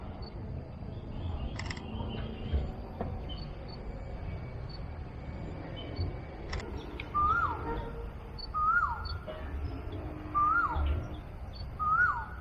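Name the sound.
kingfisher calling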